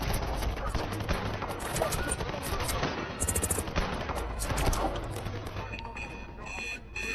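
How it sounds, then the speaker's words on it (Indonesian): Gunfire rings out in an action film fight scene as a team blindly fires on an enemy, with dense bursts of rapid shots mixed with music and effects, loud and continuous throughout. "para tim yang secara membabi buta menembaki Stone Bank beserta anak buahnya"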